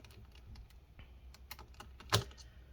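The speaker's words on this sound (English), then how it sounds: "let's go ahead and remove all these screws. Right, 3 screws on each hinge" Small screws being removed from the screen hinges of a Samsung 900X notebook, NP900X3B, with quiet clicks and ticks of the screwdriver and metal parts, ending in one sharp louder tap, alone in a quiet room.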